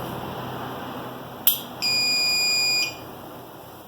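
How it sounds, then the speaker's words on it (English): A high-power rocket's altimeter, powered on for a test before a Level 2 certification flight, gives a sharp click and then one steady, piercing electronic beep lasting about a second against a quiet background. "testing out the altimeter, just make sure it's turning on, it sounds good"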